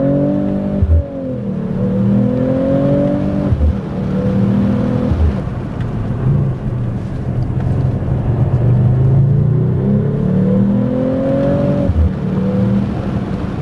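The inline-six engine of a 2024 Mercedes CLE 53 AMG revs hard through repeated upshifts in a straight-line drag, the pitch climbing and dropping with each gear change, loud and close with a steady rumble.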